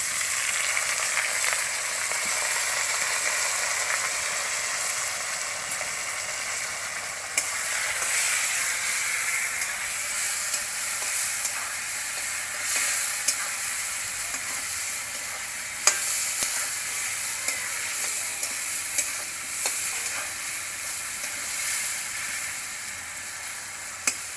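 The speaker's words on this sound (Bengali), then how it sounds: "তো তেল গরম হয়ে গেছে, মাছ দিয়ে দিবি।" Hilsa fish head frying in hot oil with turmeric in a village kitchen, a loud, steady sizzle and hiss that continues for the whole stretch, with occasional faint clinks.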